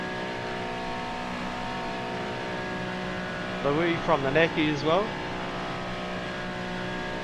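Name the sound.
GT3 race car engine on track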